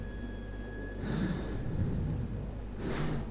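Labored breathing of a character in Metro 2033, two loud, raspy gasping inhales through a mask or filter, spaced under a second apart, close and without talk.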